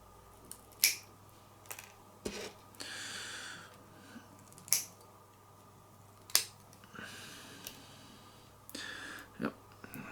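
Sharp snips of cutters removing small plastic chassis parts from a sprue for a 009 scale Hudson three-plank wagon kit, a handful of crisp isolated clicks spaced seconds apart, with quiet rustling between.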